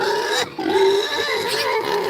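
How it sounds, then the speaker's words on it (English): Farm pigs squealing and grunting close by, loud shrill cries in quick bursts with a brief pause, no talk over them. "I don't think you guys can hear me over the pigs. They're loud."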